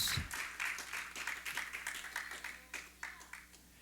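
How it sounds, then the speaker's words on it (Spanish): A church congregation claps and applauds together during a sermon, a fairly faint, steady patter of many hands with rhythmic peaks, heard alone without talk. "Dale palmas."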